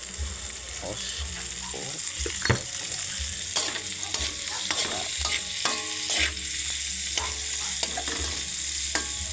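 Food fries in oil in a pan with a steady sizzling hiss, while a utensil scrapes and stirs with clinking knocks throughout, close and fairly loud.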